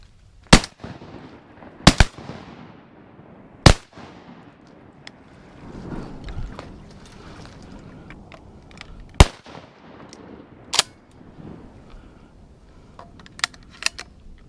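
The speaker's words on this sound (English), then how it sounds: "I'll shoot that one right there." Shotguns fire during a duck hunt in Wisconsin, with about seven sharp, loud blasts spaced irregularly over several seconds against a low outdoor background.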